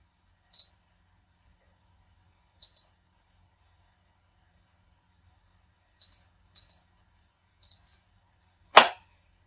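Sharp, close computer mouse clicks in AutoCAD, mostly in quick double taps spaced across several seconds in near silence, ending with one louder, noisier click.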